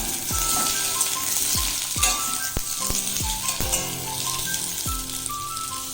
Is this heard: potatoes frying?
yes